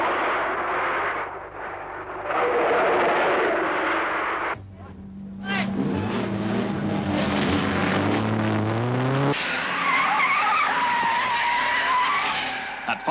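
Race cars skid and spin on the mountain section of Mount Panorama, Bathurst, near Forest Elbow, one car clipping the wall. Loud engine roar and shifting tire and motor tones fill the track, and commentary talk runs over the racing noise throughout.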